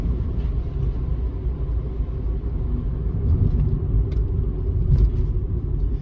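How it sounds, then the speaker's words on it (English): A Honda Jazz rolls along a dark winter road, its engine and tyres making a loud, steady low rumble heard from inside the cabin, with faint clicks and bumps breaking through now and then. "I thought I'd just show you probably the most interesting part of driving home at night, this section of road."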